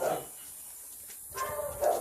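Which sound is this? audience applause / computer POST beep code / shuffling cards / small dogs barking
small dogs barking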